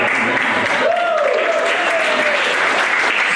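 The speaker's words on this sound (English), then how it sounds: "Statistically, too many of you are applauding" An audience at a stand-up comedy show applauds loudly and continuously, a full wash of clapping with a voice briefly rising over it.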